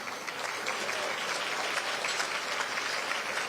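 Audience applause at a county State of the County address, a steady dense wash of clapping from many hands filling the room throughout, fairly loud and continuous with no break.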